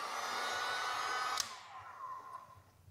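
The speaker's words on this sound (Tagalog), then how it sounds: "So gumamit na lang ako ng blower." A heat blower runs steadily, shrinking heat shrink tubing over electric scooter wiring on a Kukirin G2 Master during an alarm install; a faint, even airy hiss under a brief click, then easing off and fading.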